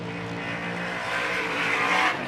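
A Ford Optima race truck at the Finke Desert Race in the desert crosses the finish line, its engine a loud, sustained roar that swells toward the end, heard alone without talk.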